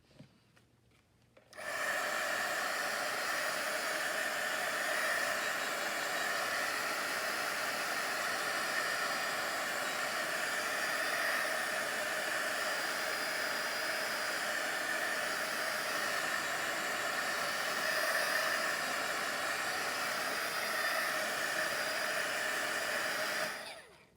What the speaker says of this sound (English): Now, I'm gonna hit this one more time with the heat gun.